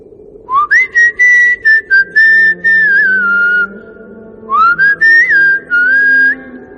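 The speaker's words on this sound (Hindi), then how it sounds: "ढूंढते हुए ऐसे ही एक धुन सीटी की बजाई" A clear, melodic whistled tune in two phrases, the first longer with sliding pitch and short breaks, then a brief pause before a second phrase.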